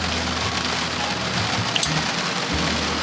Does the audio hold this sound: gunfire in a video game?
no